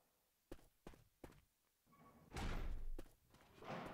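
A door in Left 4 Dead 2 opens with a few quiet thumps and clicks in quick succession, then a swelling rush of noise as it swings, trailing off before a second, softer surge. It is faint and heard alone.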